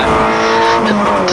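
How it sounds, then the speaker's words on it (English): A Stock Hatch race car slides into Vale at Silverstone, its engine screaming loud and close with a brief squeal of tires, under excited commentary. "Nathan Saunders slides his car into Vale there."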